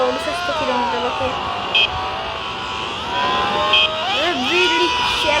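A Kawasaki ZX-10 superbike in a racing video game, running through a tunnel at speed, gives a close, high-pitched engine whine that climbs and dips with each gear shift and holds steady throughout.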